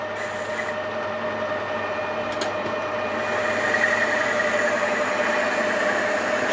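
Metal lathe turning stainless steel with a ground high-speed-steel chip-breaker tool, a steady broadband machining hiss with faint tonal whine running continuously, slightly louder in the second half, no voices.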